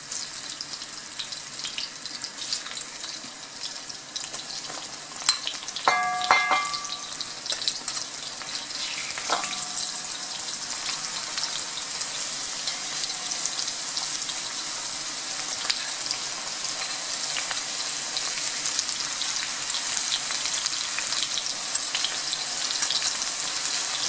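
Mushrooms fry in a pan that is not very hot, a steady soft sizzle and crackle running the whole time, with a couple of brief clinks from a utensil early on and no talk.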